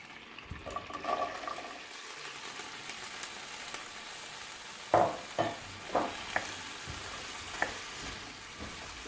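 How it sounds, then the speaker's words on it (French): Okra sautéing in oil in a pan for oxtail stew, giving a steady sizzle with several louder scraping stirs toward the end. "je vais faire revenir le gombo pour enlever les gluants en fait avec un peu d'huile"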